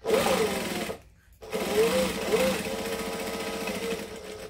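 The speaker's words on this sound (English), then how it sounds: "I want to stitch a 1/4 inch past this edge here, and then pivot" A sewing machine stitching a clutch hums steadily up close, halts for a moment's pause at the pivot point, then resumes its continuous motor whir.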